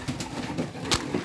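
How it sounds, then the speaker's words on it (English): Pigeons coo softly in a loft holding 28 birds at feeding time, a close, continuous burble of overlapping low calls with a brief flutter of wings. "I've got 28 pigeons in here"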